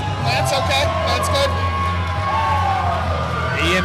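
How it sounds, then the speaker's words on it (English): Wrestling crowd cheering for babyface wrestler Ian Bush at an Outbreak Wrestling show, a constant roar of shouts and whoops behind loud commentary talk, with bursts of higher yelling rising over the din. "Listen to the crowd. They love the baby face."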